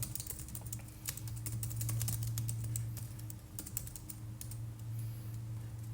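Steady typing on a computer keyboard, with quick irregular clicks of keys going on throughout. The clicks are close and fairly quiet over a low constant hum.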